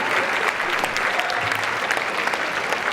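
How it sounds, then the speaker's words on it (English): An audience at a hip-hop education science event breaks into steady, dense applause, a continuous wash of many hands clapping that holds at an even level throughout. "Y'all should give yourselves a round of applause."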